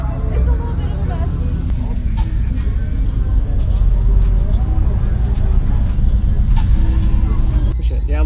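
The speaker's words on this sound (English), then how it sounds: "Great bass demo. 2 8-inch subwoofer 6th order box." Loud, bass-heavy music pounds from a car audio system with two 8-inch subwoofers in a 6th-order box, booming steadily throughout while voices chatter in the background.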